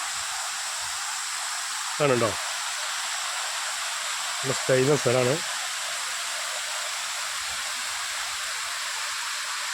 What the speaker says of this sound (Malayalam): നല്ലൊരു അടിപൊളി വെള്ളച്ചാട്ടം, പാലൂർക്കോട്ടെ വെള്ളച്ചാട്ടം